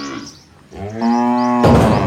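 Hungry goats at a rural village farm call out at feeding time: a loud, close, drawn-out bleating cry with no talk over it.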